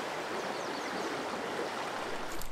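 Powder Mill Creek, a trout brook in Michigan's Upper Peninsula, flows with a steady, even rushing hiss that stays constant and fairly close throughout.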